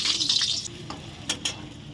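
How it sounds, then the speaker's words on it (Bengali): Potato and papaya pieces fry in a pan for a mung dal curry, giving a soft hiss with a few brief stirring scrapes and clinks, close by and steady. "আগে আলু আর পেঁপেটা ভালো করে ভেজে নিচ্ছি"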